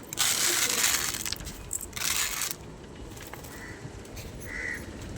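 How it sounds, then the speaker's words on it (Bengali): Female pigeons in a loft pecking at grain feed, a dense close crunching and scratching that loudens in bursts and then eases, with faint bird calls mixed in. "দেখুন সব মাদি পায়রা খাচ্ছে সব নেমে গেছে খাওয়ার জন্য"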